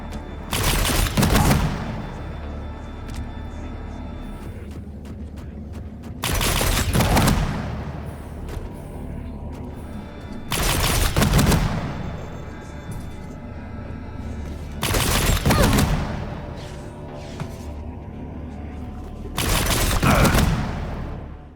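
Tri-Bolt weapon fire in the arena shooter Quake Champions: five loud, booming bursts arrive at roughly four-second intervals, each a sharp blast with a short decaying tail over a steady game background.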